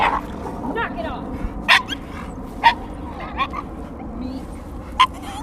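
A dog at a park gives a few short, sharp yips and barks with a whimpering tone, spaced across the clip, over steady outdoor background and nearby voices.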